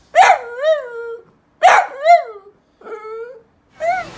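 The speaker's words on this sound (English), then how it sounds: "Maybe it's my noisy old dog, Bella." An old dog barks and yowls nearby, four separate drawn-out, whining barks spaced about a second apart, loud and alone.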